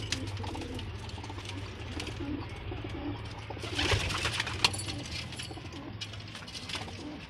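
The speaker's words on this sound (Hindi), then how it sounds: "मेरे ये घर के कबूतर हैं जिन्हें मैं सेल करना चाहता हूँ" Domestic pigeons kept at a home setup in Karachi coo in low, soft, repeated throaty calls against quiet background rustle and a brief flutter, faint and close.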